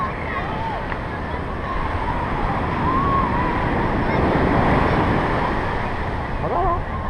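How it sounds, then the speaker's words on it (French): Large ocean waves break and wash continuously at Bronte Beach in Sydney, a full roaring surf close by, with faint calls over the wash and no talking. "des vagues de bonhomme ça. Pas des vagues de la Méditerranée."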